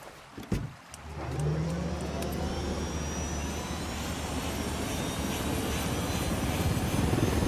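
Helicopter in Ghost Recon Wildlands, a steady whirring engine drone that holds throughout after a couple of sharp thuds at the start.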